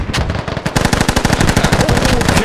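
Rapid automatic gunfire from the military shooter game Squad, a loud close burst of fast repeated shots rattling on without pause for the whole stretch.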